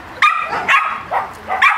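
A dog gives several short, sharp barks and yips in quick succession, loud and close, during a training session with a clicker-style noise.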